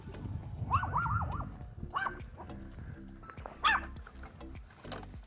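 Several dogs bark and yip at an outdoor home, giving a few sharp, close barks with short whimpering, whiny calls between them over low background noise.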